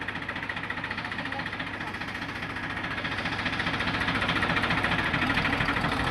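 A Deutz-Fahr tractor engine runs steadily near a river where sand is being loaded, a close, loud, continuous throbbing drone that swells slightly toward the end, with faint voices under it.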